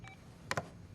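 A telephone sounds late at night with a quick pair of short electronic beeps just after a faint chirp, all quiet and over a low background hum.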